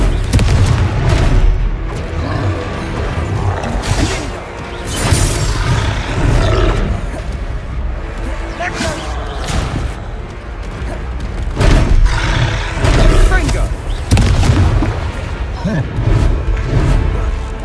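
Confringo spell blasts in a wizarding video game, repeated loud booming explosions with roaring bursts spread across the stretch, layered under frequent game voices.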